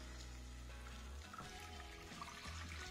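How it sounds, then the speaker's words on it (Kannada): Milk pours into a pan while making vermicelli payasam, a soft continuous liquid stream that sloshes and trickles, fairly quiet and alone without talk. "ಪ್ಯಾನಿಗೆ ಹಾಲು ಹಾಕ್ಕೊಳ್ಳೋಣ."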